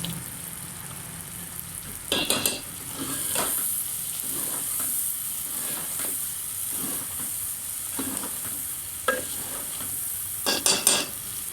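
Urad dal fries in a pan with coriander and chopped chillies, giving a continuous soft sizzle broken by scattered clinks and scrapes as it is stirred.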